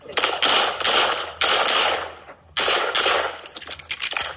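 Pistol shots ring out in fast strings during a practical shooting competition stage. Loud, close bursts are separated by brief gaps and end in a rapid run of shots.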